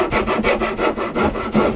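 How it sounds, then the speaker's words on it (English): A rough rasp file shapes a wooden boat boom for a Drascombe Lugger, with about seven loud, close, rhythmic scraping strokes in quick succession and no talking. "just like a very rough kind of file, and it just really takes the wood down to the right shape"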